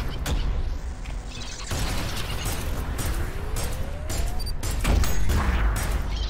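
Enemies fire at the player in the fast-paced shooter game ULTRAKILL, a dense barrage of gunshots and bursts layered over loud game noise and music, continuous and up close.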